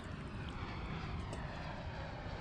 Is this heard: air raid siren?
no